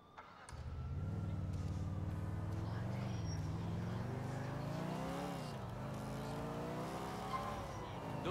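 Car driven in GTA IV, its engine humming steadily and close, rising and falling in pitch as it accelerates and eases off, continuous throughout with faint background noise.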